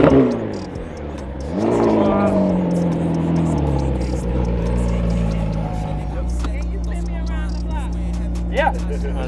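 A McLaren 765LT Spider fitted with IPE downpipes revs loudly up close, the engine surging and rising, then settling into a steady rumbling drone with a short sharp burst near the end.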